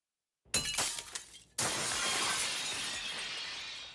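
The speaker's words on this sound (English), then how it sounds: "Did Midoriya just break his glass?" Glass shatters in a My Hero Academia anime scene: a sharp crash with scattering shards, then a second louder burst of breaking glass whose crunching debris rings on and slowly fades.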